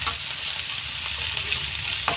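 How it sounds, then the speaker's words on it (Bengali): Chopped onion fries lightly in a pan for veg Manchurian, giving a close, continuous, crackling sizzle with faint stirring scrapes and no voices. "হালকা ভাজা ভাজা হবে।"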